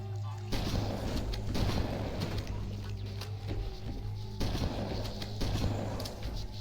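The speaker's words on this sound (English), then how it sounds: "Why did I just throw that plasma grenade right there?" A plasma grenade in Halo Combat Evolved is thrown and bursts, with several loud booming blasts over a steady low hum of combat noise.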